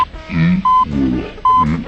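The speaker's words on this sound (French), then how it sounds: "quand on recule, on fait bip bip" Electronic reversing beeps from a motorbike in the video game Cyberbike 2, two steady high tones cutting in over game music and background noise.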